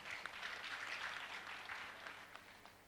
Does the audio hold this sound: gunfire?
no